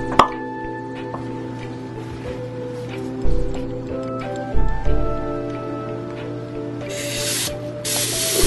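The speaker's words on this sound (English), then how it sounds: "Pretty much coated this with non-stick baking spray." Non-stick baking spray misted into a baking pan for homemade banana bread, heard as a couple of short hissing bursts near the end, close by, with kitchen clatter and a few knocks before them.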